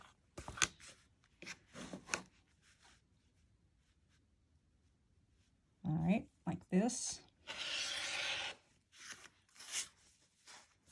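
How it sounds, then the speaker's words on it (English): A rotary cutter slices fabric for pennants on a cutting mat, giving short scratchy rolling strokes, with soft speech in between and a longer rasping pass near the end. "Just use your rotary cutter and put it up against it and next to it."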